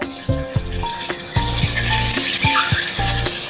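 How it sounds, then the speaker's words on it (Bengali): An egg fries in hot oil in a pan, giving a bright, continuous sizzle layered with several short, knocking clatters from the cookware. "প্রথমে ডিমটা ভেজে নিই।"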